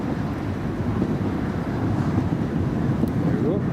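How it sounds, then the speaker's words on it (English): Strong gusting wind at Newcastle Airport buffets the microphone with a loud, continuous roar and low rumble across the whole short stretch. "The wind is gusting 34 knots."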